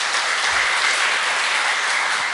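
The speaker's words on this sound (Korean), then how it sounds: "우리 앙상블을 위해서 다시 한번 큰 박수 드리죠" A church congregation at a Sunday worship service applauds its instrumental ensemble with dense, even clapping that stays loud and steady throughout.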